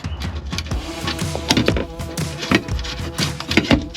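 Loosened bolts are removed from RV steps by hand or with a tool, giving a quick, close series of metallic clunks, taps and rattling knocks with no talking.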